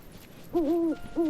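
An owl hoots in the video game Final Fantasy VII Rebirth, two clear tonal hoots, the first longer and wavering, the second short, fairly close and alone over a quiet ambient background.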